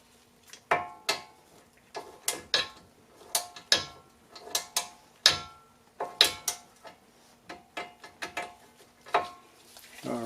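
A 12mm wheel sensor bolt on a 2004 Infiniti G35X front wheel hub is tightened with a ratchet in close, crisp bursts of clicking pawl strokes, repeated rhythmically with short pauses between pulls.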